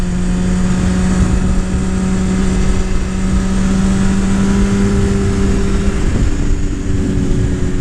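A BMW S1000RR sport motorcycle's inline engine hums smooth and loud at a steady pitch, then the note shifts slightly near the end, running unbroken without speech.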